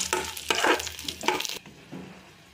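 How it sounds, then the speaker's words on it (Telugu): A tempering of spices and curry leaves dropped into hot oil for mint rasam, sizzling loudly with stirring scrapes, then the hiss drops to a quieter simmer near the end. "గోండి తాలింపు వేసుకుంటున్నా."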